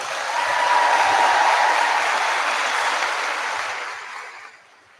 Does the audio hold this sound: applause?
yes